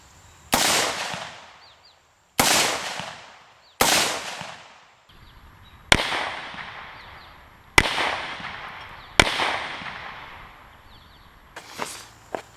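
Six sharp gunshots strike an AR500 steel armor plate, each a loud crack with a ringing metallic tail, spaced about two seconds apart, followed by a quieter double impact at the end.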